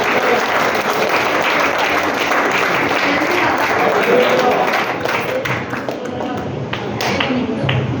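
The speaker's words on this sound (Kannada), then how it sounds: "ಚಪ್ಪಾಳೆ ಚಪ್ಪಾಳೆ." A crowd at a prayer gathering claps continuously, dense steady applause that holds loud and close for the whole stretch, thinning slightly near the end.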